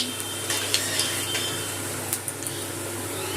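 Whole garam masala, cumin seeds, bay leaf and dried red chilli frying in hot mustard oil give a close, even hiss, with a few light clinks from a spoon against the pan.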